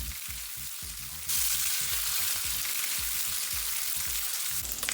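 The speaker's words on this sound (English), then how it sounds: "Now that we've finished frying our salmon" Salmon sizzles and crackles in a hot pan, a steady hiss that grows louder partway through, with soft low thumps beneath.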